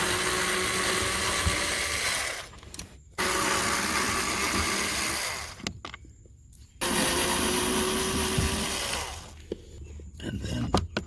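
Power driver removing T25 screws from a car heat and AC blower motor, three loud whirring runs of a few seconds each, separated by short quiet pauses.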